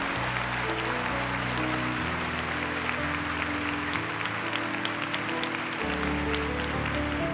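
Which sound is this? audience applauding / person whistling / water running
audience applauding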